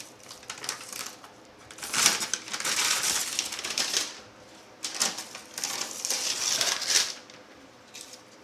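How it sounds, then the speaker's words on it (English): Masking tape peeled off a Plasti Dip sprayed wheel in two long crackling, tearing strips, each lasting a few seconds with a brief pause between, close and fairly quiet. "I'm going to attempt to start taking all the masking off of it"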